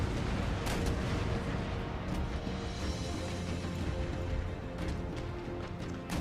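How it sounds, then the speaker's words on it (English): Naval cannon fire from warships in the strategy game Empire: Total War, a dense, continuous barrage of booming shots with sharp transient cracks rolling over a steady roar, no voices. "Hopefully he can get some shots onto Alfred"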